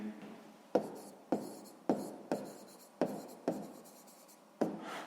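Numbers being written by hand in a sixth-grade maths exercise, a close series of about eight sharp pen or chalk strokes, each a quick scratch that fades, alone without talk.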